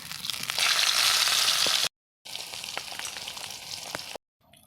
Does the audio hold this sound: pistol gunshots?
no